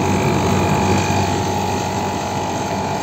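An old German cooling unit runs just after being switched on, a steady mechanical hum with a constant tonal drone and faint rattling underneath, close and loud, unchanging throughout.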